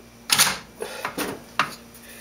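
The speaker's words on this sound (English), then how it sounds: "So now let's try to get the bolt carrier out." Metal parts of a new IO Inc AK sporter rifle click and clack close by as the bolt carrier is worked at, with four or five short sharp knocks spread unevenly over two seconds.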